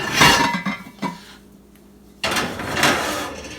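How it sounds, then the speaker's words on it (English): A heavy 5-quart Dutch oven with its lid goes onto the rack of a cold oven, giving a few close metallic clanks and scrapes, then a pause and a longer rattle of metal and rack. "we're going to put our heavy pot with the lid"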